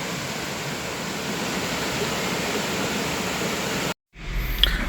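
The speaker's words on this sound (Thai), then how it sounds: "เป็นน้ำตกที่หล่นมาจากภูเขา" Waterfall at Khlong Nam Lai in Kamphaeng Phet, Thailand, pouring down from a mountain: a steady, loud rushing roar that cuts off abruptly near the end, followed by low rumbling wind noise.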